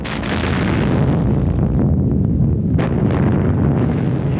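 An artillery salute salvo fired by 324 guns in Moscow rolls out as a loud, continuous thundering roar, with heavy rumbling blended together and no quiet gaps.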